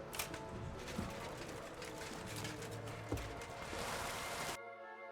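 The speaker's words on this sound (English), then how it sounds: "It's raining." Rainfall in the medieval open-world video game Kingdom Come: Deliverance II, a steady hiss of drops pattering on surfaces with a few sharper ticks, continuous and fairly even until it cuts off near the end.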